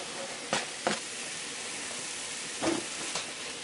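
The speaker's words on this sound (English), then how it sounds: "So I'm going to go ahead and fry this for a few minutes till it's nice and brown" Beef without flour dredging browning in a Ninja 3-in-1 cooking system for stew, a soft steady sizzle with a few brief louder pops and spatters, nearby and unaccompanied by talk.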